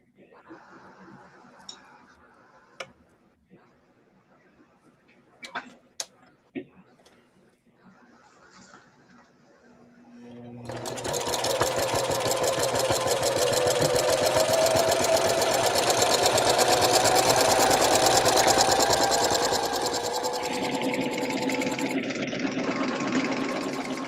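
A sewing machine stitches a quilted tote. After about ten seconds of quiet clicks and handling noises, its motor starts and runs as a loud, steady mechanical whir that eases slightly near the end.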